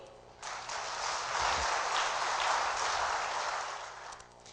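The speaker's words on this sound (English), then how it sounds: "I have to ask all of you to clap for him." An audience at a broadcast journalism talk breaks into applause, a dense, steady clapping that swells quickly, holds for several seconds and then tapers off.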